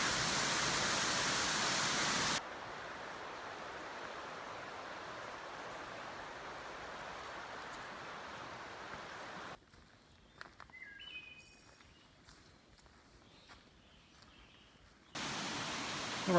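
King Creek Falls in a southern Appalachian forest roars as a steady broadband rush, loud at first and then softer and more distant, with scattered bird chirps breaking through later.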